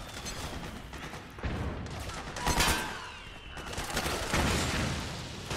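Gunfire in the video game Metal Gear Solid 4: Guns of the Patriots, bursts of rapid shots and sharp bangs with mechanical clatter, rising and falling over several seconds at moderate volume, no talking.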